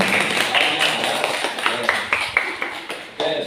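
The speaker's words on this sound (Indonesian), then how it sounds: "Beri aplaus untuk" A small class claps for a student: a thin scatter of separate light claps and taps over a roomy background, irregular and fairly close.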